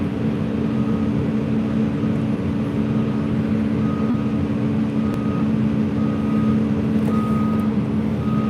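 A truck is loaded by an excavator at a hauling site: repeated reversing beeps sound at a regular rhythm over a steady, loud engine rumble, with no voices.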